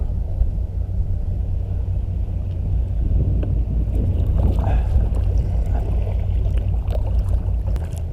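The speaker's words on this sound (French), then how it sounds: "Regarde-moi le beau bateau" Deep engine rumble from a passing boat swells slightly and fades, heard from a kayak camping spot, mixed with wind noise and splashing water, continuous and close.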